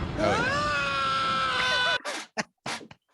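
A long, loud synthetic-sounding scream from a horror movie holds for about two seconds, then breaks into short choppy shrieks and gasps before cutting off.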